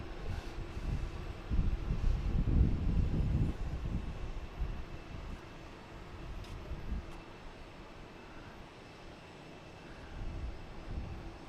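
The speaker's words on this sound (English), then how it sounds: "We have Aer Lingus coming in right now from Dublin" An Aer Lingus airliner arriving from Dublin at Boston Logan, a distant low jet rumble that swells early and then fades to a quieter, steady roar.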